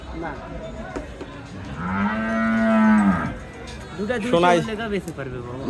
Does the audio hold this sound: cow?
yes